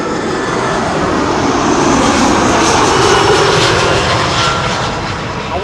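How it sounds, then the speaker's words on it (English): Iberia Airbus A319 landing on Runway 06 at Amsterdam Schiphol, a loud, steady roar of jet engines close by that swells slightly and holds throughout. "A319 incoming, Iberia flight 737 arriving from Madrid."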